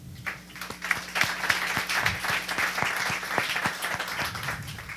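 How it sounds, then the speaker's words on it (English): Audience applause for a tech-talk guest fills the room as a dense, steady patter of many clapping hands, fairly close and sustained for several seconds with no speech over it. "Let's give him a round of applause"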